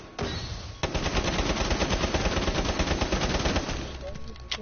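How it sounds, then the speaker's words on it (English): Rapid automatic video game gunfire as a whole magazine is emptied into a wall, a loud continuous stream of closely spaced shots lasting several seconds before stopping abruptly. "I just like shot a whole mag into that wall and I didn't get one hit marker"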